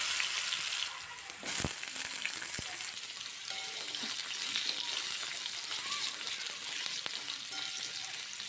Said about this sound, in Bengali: এখন আলুগুলোকে এইরকম একটু লাল করে ভেজে নিয়ে